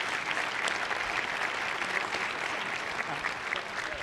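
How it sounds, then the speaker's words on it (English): A crowd claps steadily for the board of directors candidates at a United States Aquatic Sports meeting, a dense, even applause that stays at a constant level throughout. "How about we give a round of applause for our candidates here real quickly"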